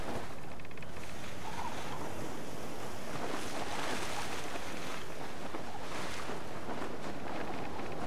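A sailboat crossing open water in the video game Watch Dogs 2, with steady wind blowing over the sails and waves washing against the hull, loud and continuous and without speech.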